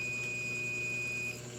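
An Arduino water level sensor's electronic buzzer sounds a steady tone for over a second and then cuts off, over a low background hum.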